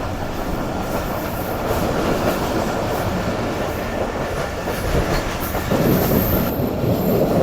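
The Karakoram Express train runs steadily into Hyderabad city, giving a loud continuous rumble of rolling wheels and rail noise with faint clatter, heard from on board.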